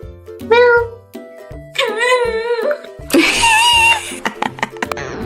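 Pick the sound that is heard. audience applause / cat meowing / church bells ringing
cat meowing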